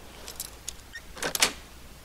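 A door being unlocked and opened in Fallout 4: faint clicks and small metallic ticks build to a louder rattle and latch clunk, heard alone.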